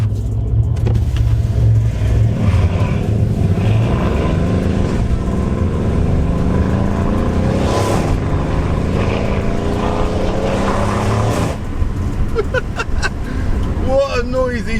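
A Mercedes C63 AMG engine pulls hard on the move, its note rising through repeated climbing sweeps that sound close and strong, with a short break before the revs build again toward the end.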